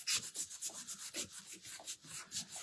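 A sanding sponge rubs back and forth over rustic painted wood, close and quiet, in a steady rhythm of short scratchy strokes roughly three or four per second.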